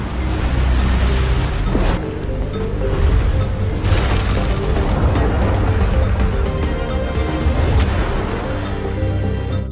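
Ocean waves roll in at a beach in a film scene, a loud continuous roar of surf with heavy low rumble and washing noise throughout, no talk.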